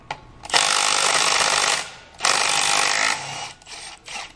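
A Milwaukee M12 stubby impact wrench removes lug nuts in two loud, close hammering bursts of about a second each, followed by a few shorter, weaker rattles.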